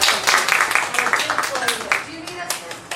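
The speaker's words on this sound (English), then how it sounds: "So let's give Heather a huge round of applause" An audience at a home financing seminar claps for a speaker who is being introduced, with steady, moderately loud applause that thins out toward the end while voices talk underneath.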